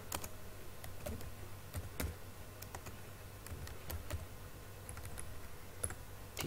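Faint, scattered keyboard keystrokes while someone fills in an online job application form for a school teacher post, with a low steady hum underneath and no voices.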